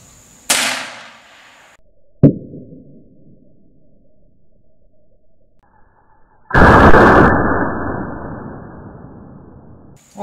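Single sharp rifle shot from a .22 fired at a target of CDs outdoors, loud and abrupt with a quick decay, set among a few quieter knocks and a longer burst of rushing noise.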